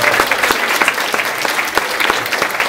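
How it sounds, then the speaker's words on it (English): A hall audience gives a warm, dense round of applause, many hands clapping steadily and loudly close by. "I think they deserve a special round of applause."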